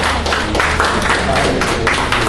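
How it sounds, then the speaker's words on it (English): A conference audience at a social media week event in Lagos claps in a dense, steady round of applause that fills the whole stretch at even loudness. "Please can we give ourselves a round of applause for doing that?"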